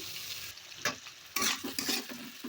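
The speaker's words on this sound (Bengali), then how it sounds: "এর ফলে মশলাটা ভালো করে ভাজাও হয়ে যাবে আর মিশেও যাবে" Spices and tomato fry in a pan with a splash of water, giving a low sizzle broken by repeated scraping and clattering stirs of a spatula.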